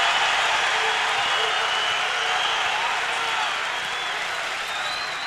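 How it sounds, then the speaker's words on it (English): A basketball arena crowd at a Utah Utes versus BYU Cougars men's game roars in a loud, sustained wall of cheering and whistling that eases slightly toward the end, with no commentary over it. "This crowd is bananas."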